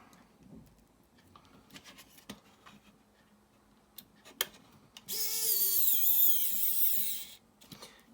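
An electric screwdriver drives a screw into a part of a Knight Rider model kit, a loud continuous whirring burst lasting about two seconds after a few light clicks and taps of handling.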